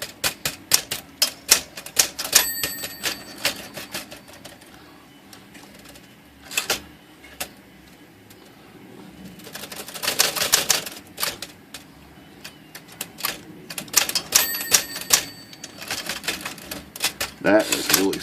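A dirty, sticky Smith Corona-style manual typewriter under repair clatters with bursts of rapid key strikes and sharp mechanical clicks, separated by pauses, close up in a quiet room.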